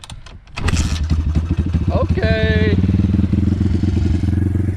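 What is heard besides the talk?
SSR or Thumpstar pit bike engine kick-started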